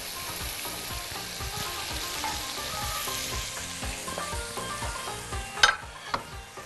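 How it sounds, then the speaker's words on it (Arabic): Minced meat sizzles in a pan with sautéed onion, spices, stock cube and mastic, a close, steady frying hiss with repeated stirring scrapes and a few louder clatters near the end, and no talking. "هننزل اللحمه ونبتدي ان احنا نشوحها"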